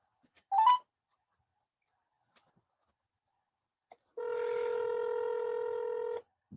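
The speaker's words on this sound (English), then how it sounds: "Let's call it again." Phone keypad tones dial the Riviera Beach police department: a short tone burst early, a long silent gap, then a steady two-second tone, all clean and close with no talking.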